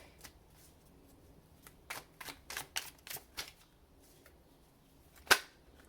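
Soft, quiet riffling of tarot cards being shuffled, a quick series of crisp flutters followed by a sharper snap near the end.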